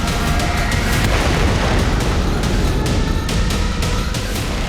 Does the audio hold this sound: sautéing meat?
no